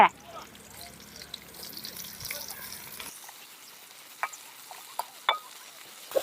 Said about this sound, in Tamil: அஞ்சு வெள்ளை பூண்டு பல பாரு இப்படி பொரியுது பாரு